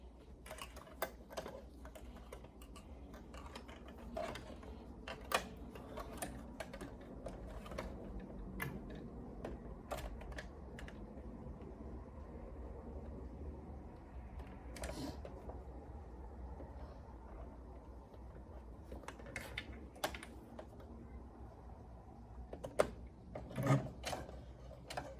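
A sewing machine stitches Velcro onto a catnip blanket in soft, intermittent runs of quiet ticking and whirring, with sharp clicks scattered throughout.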